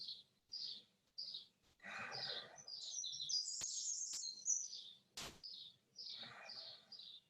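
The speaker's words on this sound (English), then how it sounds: "if you can hear the blackbird here" A blackbird sings in short, fluting phrases with pauses between them, faint and somewhat distant, with occasional chirps.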